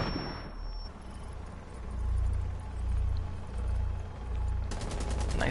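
Sustained automatic gunfire in a PS4 Major League match, a dense rattling barrage that swells and recedes, with a sharper metallic burst near the end.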